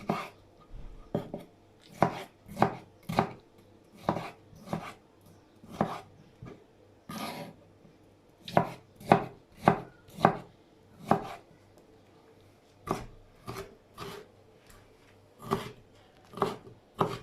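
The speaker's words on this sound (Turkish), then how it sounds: "Domateslerimizi de ince ince doğruyoruz" Tomatoes are chopped finely with a knife on a board, giving crisp, close, fairly regular taps in short bursts with brief pauses between runs.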